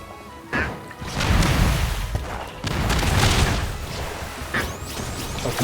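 Rapid bursts of small gunfire from the video game Cat Quest 3, crackling in dense, uneven volleys amid booms and thuds, loud throughout.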